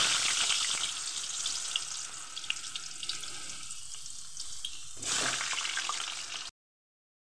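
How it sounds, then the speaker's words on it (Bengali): Cut potatoes frying in hot oil in a wok: a steady bright sizzle that runs continuously, swells briefly as something is stirred or added, then stops abruptly, with no talk. "তো আমি কেটে রাখা আলুগুলো আমি তেলে ভেজে নেব।"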